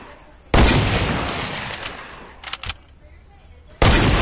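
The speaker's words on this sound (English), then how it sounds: "Bro, shoot the rocket launcher then." Video game gunfire and explosive rocket launcher blasts, with a long, loud roaring burst, a few short crackling shots, then another loud blast starting near the end.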